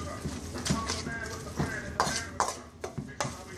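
A corned beef burger mixture with oatmeal flour added as a binder is worked together by hand or spoon in a bowl, giving soft close scraping and a few sharp clinks against the dish.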